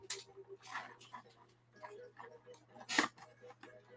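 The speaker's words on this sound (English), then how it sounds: "Yes, folks, there's a dog." A dog whimpers and gives short whines near a person at a computer, faint and intermittent against a low hum, with a voice talking.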